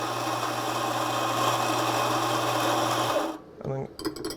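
An Anfim espresso grinder runs steadily, grinding coffee into a portafilter, a loud continuous motor whir for about three seconds that cuts off abruptly, followed by a few brief clatters.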